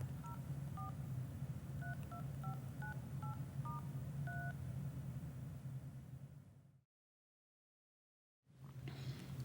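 Telephone being dialed: a quick series of clear two-tone touch-tone beeps over a low rumbling background, followed by a short silence before the ambient hum returns.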